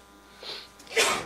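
A single sharp sneeze, preceded by a quick inhaling gasp, close and fairly loud in a quiet room.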